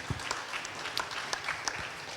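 Brief, fairly faint round of applause from a small audience at an afternoon talk on the United Nations and international law, with sparse scattered claps rather than a dense roar.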